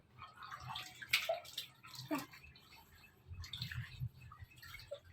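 Water splashing and dripping during a bath, intermittent sloshes and trickles at close range, moderately quiet, with soft background movement.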